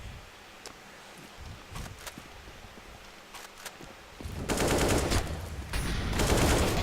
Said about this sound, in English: Niquez is firing away